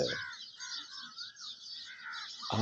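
Crows caw repeatedly in a run of harsh, rasping calls, fairly close and loud, with other birds faintly calling in the background and no talking.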